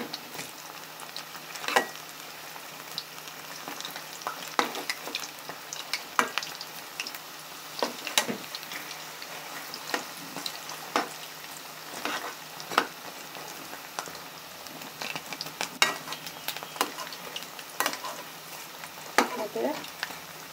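Cauliflower pakoras frying in oil, a soft continuous sizzle and bubbling with scattered pops and occasional utensil clicks, quiet and close over twenty seconds.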